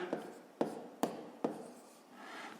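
Pen strokes scratching on paper while working a fifth-grade maths exercise: four distinct scribbling bursts, close and fairly quiet, with no talking.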